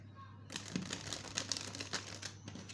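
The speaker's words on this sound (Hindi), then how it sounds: "चलिए पहले और भी कार्ड्स निकाल लेती हूँ मैं।" Tarot cards are drawn and handled with soft crinkling and shuffling rustles, close and quiet over a low steady hum.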